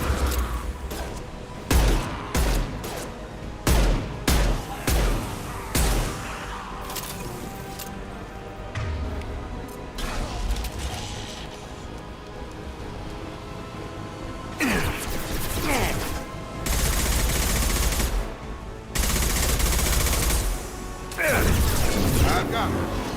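Sharp bursts of gunfire and impacts in Mass Effect 2 combat, coming in irregular clusters with clanks and crashes, mixed with in-game voices and talk.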